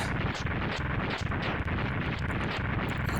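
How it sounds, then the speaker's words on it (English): Long rumbling explosions from the video game Megaman X3, a dense continuous roar of overlapping blasts that stays loud throughout with no pauses. "I love how long these explosions are, I really do."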